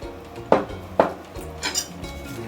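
Metal utensil clinking against a bowl while mixing cornstarch and baking soda for fried chicken wings, two sharp taps followed by softer scraping and stirring, close and clear with no talk.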